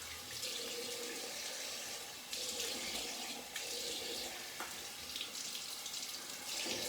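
Cold tap water runs steadily into a bathroom sink for a post-shave rinse, a continuous close hiss with slight surges as hands move through the stream.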